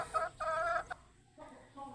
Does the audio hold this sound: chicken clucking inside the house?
yes